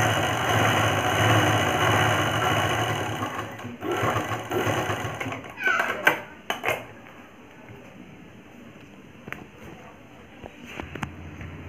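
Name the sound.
sewing machine stitching around a blouse neckline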